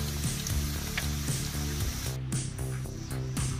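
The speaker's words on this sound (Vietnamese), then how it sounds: "Rồi mình cho khô vô mình chiên." Dried pangasius fish going into hot oil with golden fried garlic, giving a steady close sizzle with faint clinks of a utensil; the hiss drops noticeably partway through.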